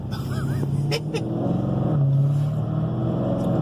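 A Scat Pack muscle car engine drones and revs steadily at close range while accelerating on a wet road in the rain, with a low rumble throughout and brief higher-pitched bursts of tyre noise.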